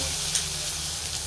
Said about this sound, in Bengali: তেল গরমই আছে, তেজপাতা, কালো জিরে আর জিরে দেবো।